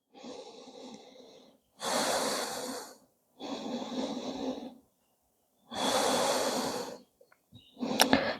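Slow, deep breaths taken while resting in yoga child's pose: four long, close breaths alternating softer and stronger, each about one to two seconds with short pauses between, ending in a few faint rustles.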